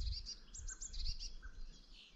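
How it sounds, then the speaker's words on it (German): Woodpeckers call in a forest, a series of high, thin chirping notes repeated in quick bursts, moderately distant over a soft outdoor hush. "Die Spechte rufen."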